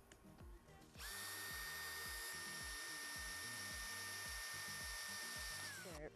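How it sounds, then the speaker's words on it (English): A power drill bores through a steel horizontal slider block for a Kitfox aircraft build. After a moment of quiet, a loud, sustained high whine runs for about five seconds, its pitch easing slightly as the bit starts to unload near breakthrough. "You can kind of hear the drill kind of start unloading just a little bit."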